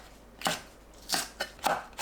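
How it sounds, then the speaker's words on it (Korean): Green onion sliced diagonally with a knife on a cutting board. Five crisp, close cuts come at an irregular pace with quiet pauses between them, and no talking. "파를 1cm 두께로 어슷 썰어주세요."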